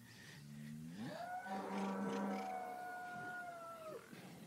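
A Nili-Ravi buffalo at a livestock sale in Pakistan gives one long, loud, close lowing call that rises and holds for about three seconds before falling away, with no talk over it.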